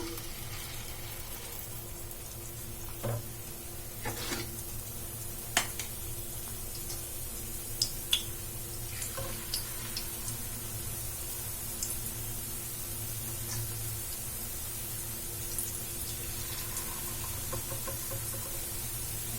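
Egg and onion batter frying in hot oil, a continuous soft sizzle with occasional small ticks and spatters, close-up and steady, with no one talking over it.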